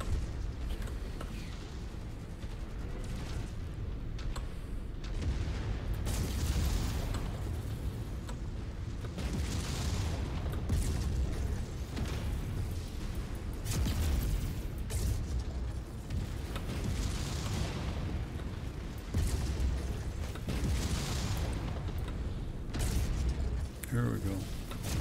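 Weapons fire and explosions from the MechWarrior 5 video game (modded career, Dragon's Gambit DLC), a dense, continuous rumble of booms and bursts with recurring louder blasts, a spoken voice present over the din.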